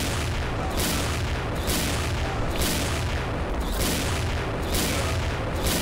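Gunfire in the Thai-played shooter game XSHOT, a dense, continuous barrage of booming shots that pulses in several loud bursts throughout, with no talk over it.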